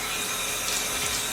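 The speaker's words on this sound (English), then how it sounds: "now I'm going to rinse my skin" Water runs steadily from a tap during face rinsing at a sink, a close, even hiss with no pauses.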